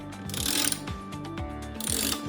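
A Tacx Neo smart bike trainer's flywheel is turned clockwise by hand while being removed, giving a steady mechanical whir with rapid repeated ratchet-like clicks, close and fairly loud, with no voices.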